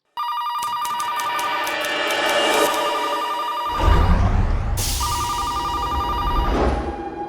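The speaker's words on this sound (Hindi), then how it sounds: "फैक्ट्री में कोई फोन नहीं उठा रहा है।" An old-fashioned telephone bell rings in repeated bursts, unanswered, over tense background music with a deep boom partway through.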